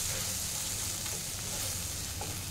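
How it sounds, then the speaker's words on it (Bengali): Poppy seed paste hits frying onions in a hot pan, and a dense, steady sizzle crackles close by throughout with no pauses. "এবার আমি পোস্ত বাটাটা অ্যাড করছি।"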